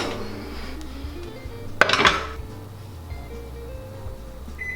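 Metal cake pan of crazy cake lifted out of an oven, a short sharp clank and clatter of metal against the rack, moderately loud and close, with low kitchen hum before and after.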